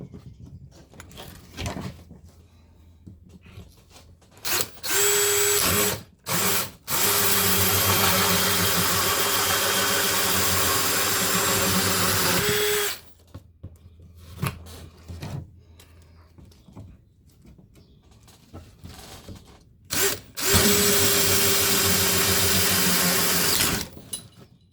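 A power drill whirs loudly in several long bursts while drilling a 3D-printed carbon fibre dashboard, separated by quieter gaps with handling clatter; the motor pitch stays steady during each run.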